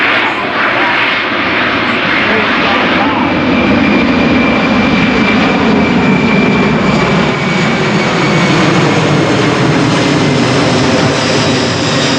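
Boeing C-17 Globemaster III jet engines at the EAA AirVenture Oshkosh airshow, a loud, continuous, broadband roar with a steady whine layered over it for the full twelve seconds.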